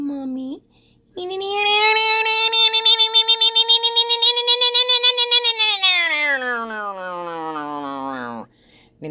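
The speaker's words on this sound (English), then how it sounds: "Look at the cat staring into the light." A house cat lets out one long, loud, drawn-out meow close to the microphone, holding a steady pitch before sliding down and trailing off, with a short quiet gap just before it.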